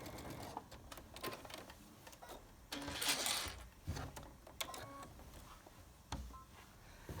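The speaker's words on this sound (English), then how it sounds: "The machine has done most of the work for me." A sewing machine stitches a fabric border in short bursts of rapid mechanical clatter, separated by brief pauses, close and moderately loud with no one speaking.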